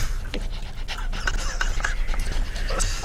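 Dogs panting hard and close, a quick, steady rhythm of breathy huffs running throughout, with no talk over it.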